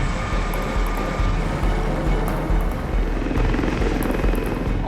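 A Westland Lynx helicopter flies over the Iraqi desert, its rotor beating in a steady rapid thump under a continuous engine whine, loud and sustained throughout.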